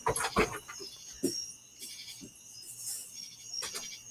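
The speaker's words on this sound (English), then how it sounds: "sorry, my dog went crazy there" A dog barking excitedly indoors, a quick cluster of sharp yaps at first and then scattered barks and panting at a moderate distance, fading somewhat toward the end.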